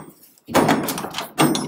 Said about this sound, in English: Then you have the door open like this.